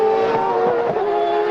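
CART open-wheel race cars during 2002 qualifying at Portland give a sustained high-pitched engine whine from a distance, pitch wavering slightly over a brief moment.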